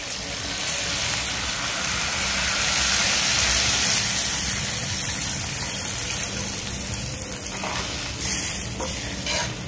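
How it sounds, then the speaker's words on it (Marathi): A glass of water goes into a spiced drumstick dal cooking in a pot, a loud, dense rushing sizzle and bubbling that holds steady close up throughout. "आता आपण यामध्ये 1 ग्लास भरून पाणी घालूया."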